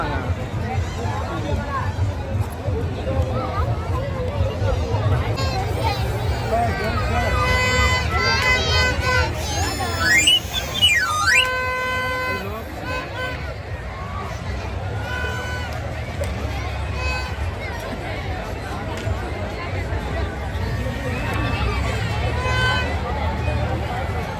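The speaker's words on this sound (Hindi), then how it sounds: "यहाँ पे ना भीड़ इतनी हो रही है खाली पैर रखने को भी जगह नहीं है" A dense, noisy crowd packs a gallery at Karawali, with steady babble of many voices, children's shouts and footsteps throughout, loud and close.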